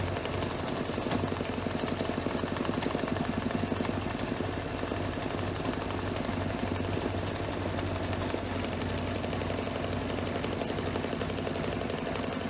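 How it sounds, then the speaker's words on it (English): An embroidery machine stitches a braid crust placement line onto a tea towel, holding a steady, unbroken mechanical hum with a fine rapid pulse throughout. "we are going to stitch the braid crust placement line"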